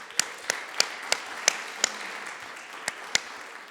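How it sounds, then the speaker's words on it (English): Sparse, distinct hand claps from a small audience at a forum on affordable housing, about ten separate sharp claps spaced irregularly over a quiet background. "give a round of applause for all of our housing developers in this audience and around"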